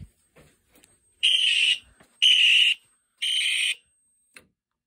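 Scratchy alarm horn on an Exceeder alarm system sounding three separate buzzy blasts of about half a second each, evenly spaced a second apart, with a few faint clicks between them and no talk.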